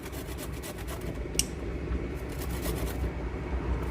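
Fresh ginger and garlic rasped across a hand grater: a steady run of quick, scratchy strokes, close and fairly loud throughout, with one sharper scrape near the middle and no talking.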